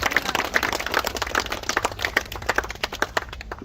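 Audience applause at a memorial ceremony for fallen soldiers of the Horim unit at the national cemetery, steady scattered clapping from a modest crowd outdoors, fairly close and continuous throughout.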